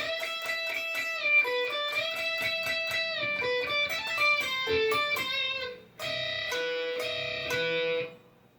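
Distorted electric guitar plays a fast riff with bent notes, a brief break near six seconds, then sustained ringing chords before cutting off.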